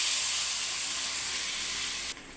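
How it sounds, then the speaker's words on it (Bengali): Potatoes frying in hot oil with a little turmeric in a wok, giving a loud, steady close sizzle and hiss that cuts off abruptly near the end. "দিয়ে এবার আলুগুলো ভেজে নেব।"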